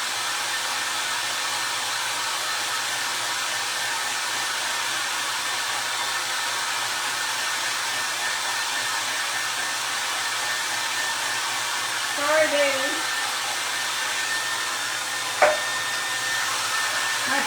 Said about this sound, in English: He does not like a hairdryer.